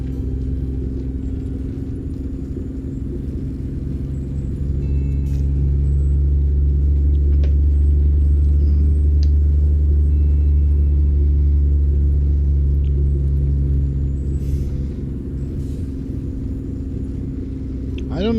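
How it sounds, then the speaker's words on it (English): Deep, steady diesel rumble of a Kenworth truck running a tuned Detroit DD60 engine in American Truck Simulator, hauling a triple road train; the drone holds loud and continuous, swelling in the middle stretch before easing off. "I don't know if I'm actually hearing Kenworth sounds from ZeeMods sound mod"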